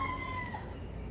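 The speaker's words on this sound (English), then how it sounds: "sorry if you hear the roosters" Free-ranging roosters in Waikiki, Hawaii, with one bird's crow ringing out loud and close in a single brief call over steady background noise.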